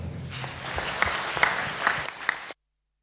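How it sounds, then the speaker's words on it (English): Applause from delegates at a Model United Nations closing ceremony, steady clapping with a few louder bursts, lasting a couple of seconds before it cuts off abruptly. "This is your applause."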